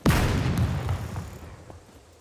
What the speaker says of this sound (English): That explosion should bring them all out.